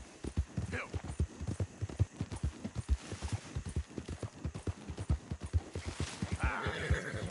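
A horse in the game Red Dead Redemption 2 gallops with a fast, steady clip-clop of hooves, close and prominent, joined by a whinny near the end, with a voice speaking over it.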